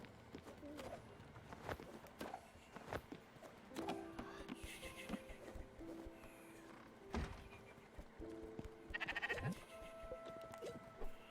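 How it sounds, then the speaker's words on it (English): Sheep bleat repeatedly in the Spiritfarer video game, several short wavering calls scattered over a busy bed of game sounds and soft thuds, close and moderately loud. "eat your undead rice and become a vampire sheep"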